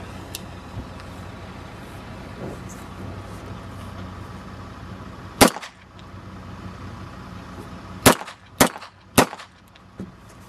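A real gun fires several sharp, distant cracks, one alone and then three in quick succession, over a low background hum.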